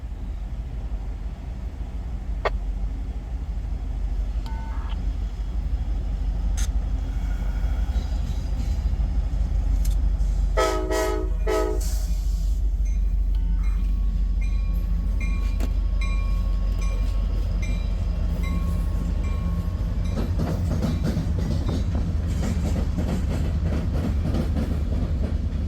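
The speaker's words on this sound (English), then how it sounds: "This is an EMD leading class locomotive coming too." A freight train led by an EMD locomotive with its ditch lights on passes close by, making a loud, continuous rumble with wheel clatter and brief metallic ringing as the cars roll past.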